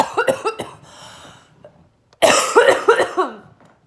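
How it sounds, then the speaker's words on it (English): A close, harsh coughing fit: a burst of several rapid coughs, a pause with faint breathing, then a louder run of repeated coughs. "I had a little coughing fit."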